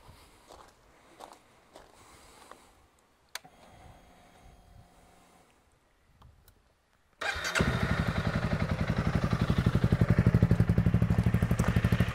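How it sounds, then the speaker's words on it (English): A Honda CRF300 Rally motorcycle on its stock exhaust comes to life after a few seconds of quiet clatter and footsteps, then settles into a loud, steady, throbbing idle up close. "The first thing I'm going to do is just start it up"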